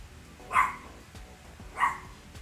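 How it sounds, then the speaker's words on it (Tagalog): A dog gives two short, sharp yelps or whining barks about a second apart, moderately loud against a quiet background. "May naririnig akong umiiyak na aso eh."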